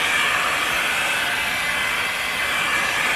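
Heat gun blowing a steady, loud, close hiss of hot air across the ridge of a 2015-or-later Dodge Challenger headlight assembly, continuous with no breaks.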